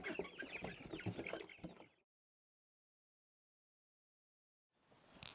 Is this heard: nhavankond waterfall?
no